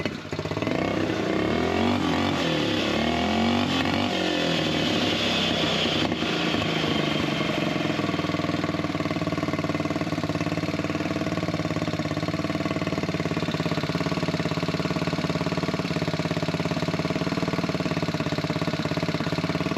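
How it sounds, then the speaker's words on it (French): A buggy engine idles roughly up close, a steady mid-pitched chugging drone with uneven knocking that sounds about to cut out, running alone without talk. "Tu entends que le régime il va couper."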